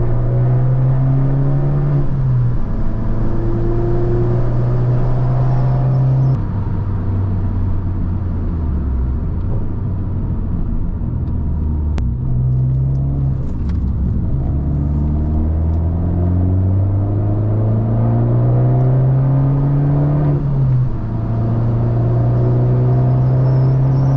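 Abarth 595 driving along in third gear, the loud engine droning and rising and falling in pitch as it accelerates and eases off, with steady road rumble throughout.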